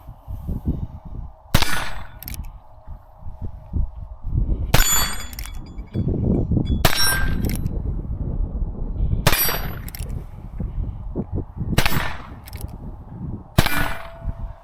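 Six sharp, loud revolver shots at targets spaced a few seconds apart, each with a bright metallic ring, over a low rumbling background.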